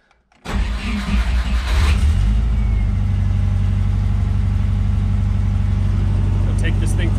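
A Porsche 914 with a swapped-in Subaru engine cranks and fires up, then settles into a loud, steady, throbbing idle close by, with a brief rev early on.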